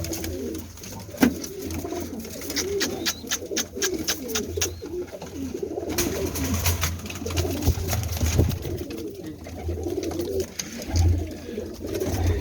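Golden-bloodline Lakha pigeons coo in a rooftop loft, their soft, throaty calls repeating close by in overlapping bursts against a faint background hum.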